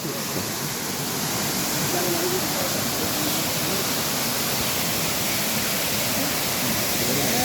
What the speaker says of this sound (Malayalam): നല്ല രസമുള്ള വെള്ളച്ചാട്ടമാണ്. നല്ല ഒത്തിരി ഹൈറ്റിലാണ് പോരുന്നത് വെള്ളം.